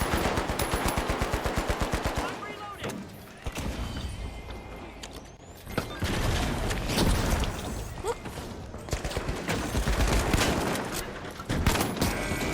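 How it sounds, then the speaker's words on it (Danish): Dense automatic gunfire from The Finals video game, rapid bursts and sustained rattling shots overlapping with booms and mechanical clatter, loud and continuous throughout. "Jeg bliver skudt af alle."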